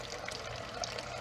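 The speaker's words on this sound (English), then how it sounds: "So I'm actually going to pour some of that juice into" Pickling juice poured into a mixture for pickled eggs: a faint, close, steady trickle of liquid running without a break.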